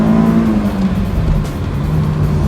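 A 2003 Honda S2000 accelerating while being driven, with a loud, steady engine drone whose pitch wavers slightly, heard from inside the car.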